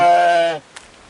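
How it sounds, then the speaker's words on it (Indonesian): A village goat among livestock in a rural hamlet lets out a single close, loud, wavering bleat that cuts off abruptly, followed by near silence. "kambing"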